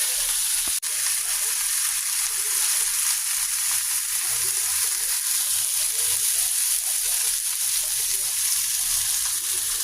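Potatoes frying in oil give a steady, dense sizzle that holds level throughout, with a faint background hum and one sharp click near the start.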